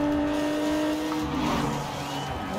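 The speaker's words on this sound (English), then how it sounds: "It sounds like an Aston." Engine of an Aston-like sports car in Forza Horizon 4, a steady loud drone with strong harmonic tones that shift in pitch midway, suggesting revving or a change in throttle, continuous throughout.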